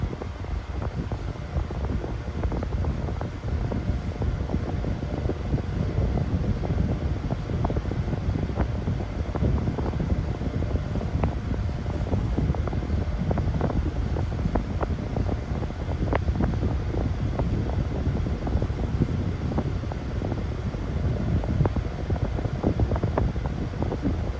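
An 8-inch Impress electric fan running at full power gives a steady, moderately quiet whoosh of rushing air with a constant low rumble and no voices.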